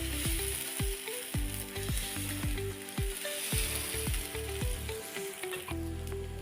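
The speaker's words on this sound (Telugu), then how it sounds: "ఇప్పుడు రవ్వ వేసి మరీ పెద్దగా కాకుండా మరీ చిన్నగా కాకుండా మీడియంగా దోశలు వేసుకుందాం" Rava dosa batter of semolina sizzling in oil on a hot pan, a steady loud frying hiss with soft clinks and scrapes from a ladle, no talking.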